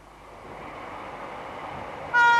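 A train rumbling past a house, building steadily in loudness before a sharp horn blast cuts in near the end.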